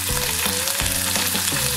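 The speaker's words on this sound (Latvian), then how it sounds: "Svarīgi gaļu no visām pusēm apcept traukšķīgi brūnu" A meat chop sears in a hot pan, browning on all sides, with a loud, steady crackling sizzle and small popping bursts filling the whole stretch, no voices.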